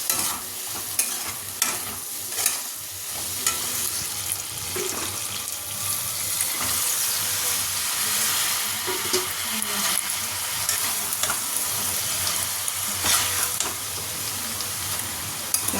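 Maggi noodles with egg, vegetables and chili sauce are stirred and fried in a pan, giving a steady, close sizzle broken by repeated scraping and clattering strokes of the spoon.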